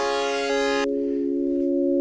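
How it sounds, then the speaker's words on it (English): A bright, buzzy synth tone from a chord organ synthesizer module gives way to a pure, steady sine tone that hums on alone at a constant pitch. "here's a nice little sine wave."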